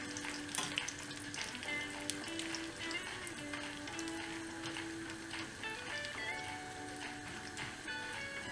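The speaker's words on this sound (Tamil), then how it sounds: "ஆட் பண்ணிவிட்டு இது ஃப்ரை பண்ணிடலாம்." Dried turkey berries frying in hot oil, a dense steady crackle and sizzle running the whole time, with faint tonal sounds and distant voices in the background.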